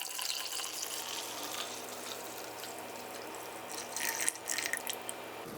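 Milk pours into a cup of fresh coffee, a steady liquid trickle that swells into a brief louder splashing near the end, close and alone.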